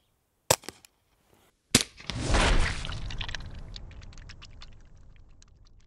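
A .22 pistol fires a 40 grain Winchester Super X round: a couple of faint clicks, then one sharp, loud report followed by a long, fading noisy tail.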